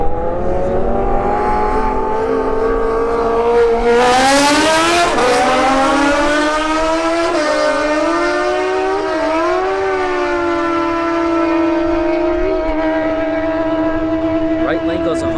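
A drag racing vehicle tears down the strip at a street-heat event, a loud rising engine wail that climbs in pitch through the gears and then fades as it moves away, with an announcer talking over it.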